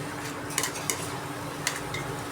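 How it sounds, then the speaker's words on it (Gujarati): Tomato sauce mixed into Manchurian gravy in a pan, with soft scraping strokes of a spoon and a few light clinks over a low steady sizzle, close by and without speech. "આપણે ટમેટા સોસ ઉમેરશું બરોબર તેને મિક્સ કરીશું આવી રીતે"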